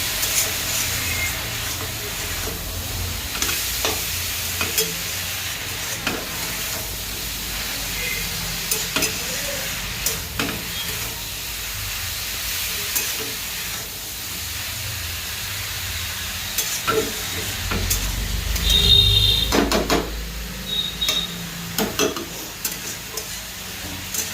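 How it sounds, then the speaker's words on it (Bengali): Shredded cabbage frying in a pan, a continuous close sizzle and hiss broken by repeated stirring scrapes and knocks, rising to a louder burst of frying near the end. "এবার আমি এটাকে সুন্দর করে লাল লাল করে ভেজে নেবো"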